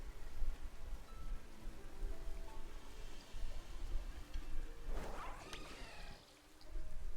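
Rain falls in a Pokémon video game as a steady, dense hiss, with a short burst of rustling and splashy noise partway through before the even patter resumes.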